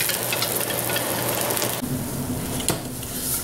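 Green onions sizzle steadily in a hot carbon steel wok during seasoning, a continuous close hissing crackle with a brief scrape or clank partway through and no talking.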